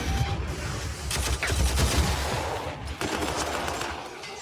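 An assault cannon fires in a Warhammer video game, a continuous dense stream of rapid gunfire with loud bursts and sustained rattling across the whole stretch, with no pause and no talking.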